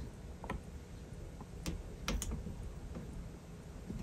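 Keys clack one at a time on a yellowed Mac Plus keyboard being tested after a repair, with sparse, irregular clicks close by over a quiet room hum.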